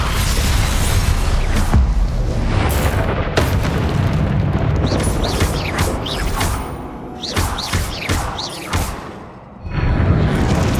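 Spell blasts from the Confringo fire spell go off in Hogwarts Legacy on PS5, a run of loud booming explosions with whooshes, several bursts close together, no talking.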